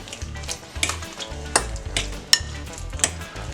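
A spoon stirs bread pudding batter of old bread, brandy, eggs and cinnamon in a bowl, giving irregular wet slaps and sloshes with a few sharp clinks against the side, close and fairly quiet.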